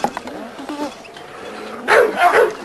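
K2, an old pet dog bred from salty dog stock, lets out a few soft yips early on and then a louder pair of close barks at the end, outdoors in a yard.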